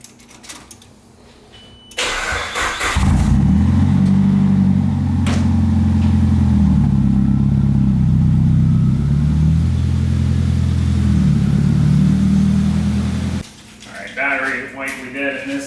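A long-unused pickup truck cranks and fires up, then runs loud and close with several revs rising and falling before shutting off, and a voice talks briefly before and after.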